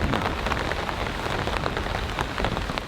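Heavy rain from Hurricane Debby pouring down at an off-grid cabin, a loud, dense, continuous hiss of drops drumming on surfaces, with no talking.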